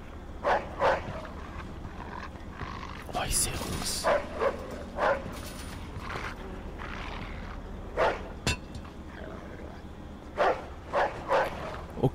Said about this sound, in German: Scheiße, ein Hund.